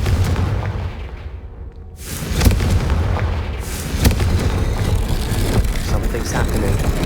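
Confringo explosive spell blasts in Hogwarts Legacy: loud, booming bursts of magical fire, one hitting about two seconds in and another soon after, over dense rumbling game background.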